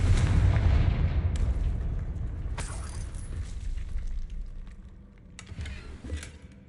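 A Confringo spell explosion in Hogwarts Legacy on Xbox Series X opens with a loud, deep booming blast that rumbles and slowly decays, followed by sharper crackling bursts and a smaller second impact near the end.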